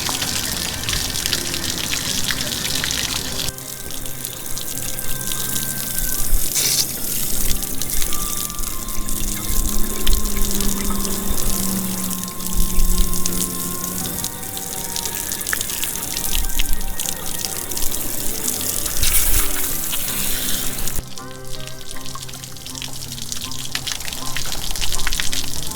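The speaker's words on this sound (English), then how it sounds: "Give the rest of the tank a good flush." Water gushes and splashes steadily out of an RV hot water tank during a flush, a loud, continuous rushing stream with shifting drips and sloshing, briefly surging near the end.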